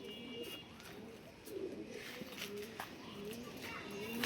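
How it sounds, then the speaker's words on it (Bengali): A female pigeon of a racing breed entered in a 42 km tournament gives soft, low, repeated coos close by, rising over a quiet background hiss. "এ হচ্ছে একটা কবুতর"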